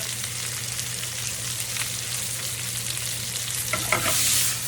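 Steady crackling sizzle of salted green beans frying in a pan, with a few louder pops and a stirring scrape near the end.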